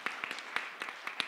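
Scattered claps from a small crowd, a few sharp individual hand claps standing out over a soft wash of applause.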